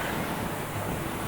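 Rough sea surf pounds a beach in a constant broad roar, close and steady, mixed with wind buffeting the microphone.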